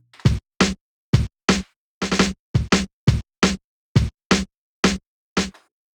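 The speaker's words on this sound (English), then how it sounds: "We have kick and snare together playing on track 1." A dry Yamaha RS7000 drum machine pattern of punchy kicks and sharp snares, evenly spaced hits in a steady rhythm with silence between them.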